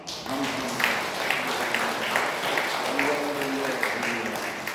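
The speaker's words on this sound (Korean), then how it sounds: "감사의 박수를 올려 드리시겠습니다" A church congregation claps in thanks during a Sunday worship service, a dense, steady round of applause with voices calling out over it.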